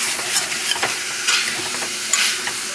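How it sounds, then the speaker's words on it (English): Onions and garlic sautéing in olive oil, with a steady broad sizzle and occasional stirring scrapes, continuous and close with no talking, cooked for a Bolognese meat sauce. "saute the onions and the garlic"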